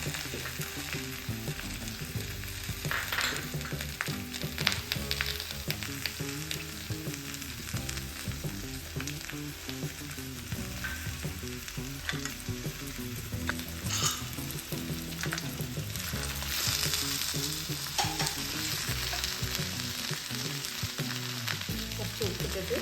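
Remaining ingredients for paneer butter masala tipped onto softened onions in a frying pan, producing a dense continuous sizzle and frying crackle with stirring scrapes throughout, close and steady, with no talking.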